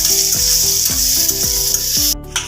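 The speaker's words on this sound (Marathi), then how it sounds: "आता आपलं हे पण थोडं मी घेतलं तेला परतून" Vegetables sautéing in hot oil for a veg momo filling, a loud continuous sizzle with several rhythmic stirring strokes, close up and without talk.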